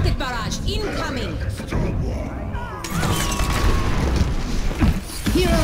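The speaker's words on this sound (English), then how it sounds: "Rocket barrage incoming" Rocket barrage explosions in the Overwatch video game, a run of booming blasts and crashes under chaotic game effects, with a voice talking through the noise.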